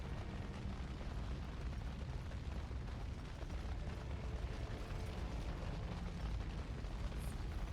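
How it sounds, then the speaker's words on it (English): Fire engulfing the party in the Dragon Age Origins video game, a loud, continuous roaring rush with crackling bursts throughout, steady and dense from start to finish with no talking. "Except for me lighting us all on fire."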